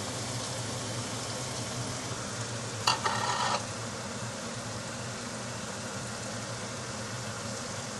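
Fenugreek leaves are stirred into mutton curry frying in a pan, a steady sizzle with one brief scraping stir partway through, and no talk.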